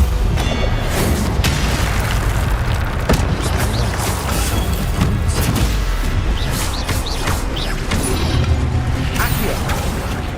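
The Incendio fire spell explodes in Hogwarts Legacy amid loud, dense game combat, with continuous booms, crackling and mechanical clatter throughout.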